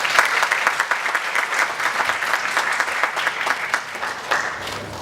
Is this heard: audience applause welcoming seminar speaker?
yes